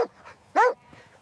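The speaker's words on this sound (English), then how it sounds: "Listen, he sounds so friendly. Who is that? It's a dog." A farm dog gives one loud, close bark, with a few softer yips and whimpers around it.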